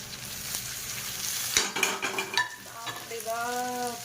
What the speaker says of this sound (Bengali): এদিকে দেখো পেঁয়াজ ভাজাও আমার ডান হয়ে গেছে আর এর মধ্যে দিয়ে দিলাম টমেটো কুচি